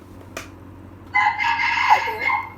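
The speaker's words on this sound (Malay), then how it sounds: "Oh, si ada ayam berkokok." A rooster crows once, a clear drawn-out cock-a-doodle-doo of about a second and a half, heard at moderate distance after a brief click, with a quiet background and no talking.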